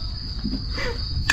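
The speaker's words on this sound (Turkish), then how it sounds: "Bir yaz akşamı cırcır böceklerin altında." Crickets chirp on a summer evening in a steady, high, continuous trill that stays even throughout, with faint household movement and a brief clatter near the end.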